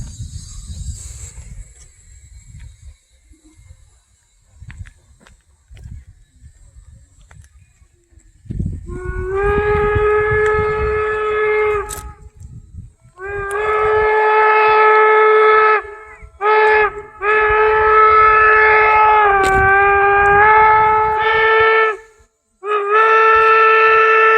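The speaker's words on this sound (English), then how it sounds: "Here's the signal for crossing a road intersection. It's 2 longs, a short, and a long." A steam locomotive whistle sounds a road-crossing signal of long blasts with one short blast, loud and harmonic, after a quiet stretch of faint rumbling.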